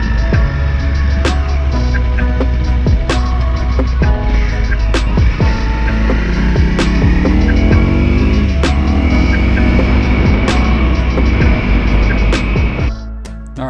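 Honda CRF 300L motorcycle ridden over dirt-packed gravel roads, a steady close engine drone with shifting pitch under continuous wind and road rumble, sharp clicks and knocks scattered throughout.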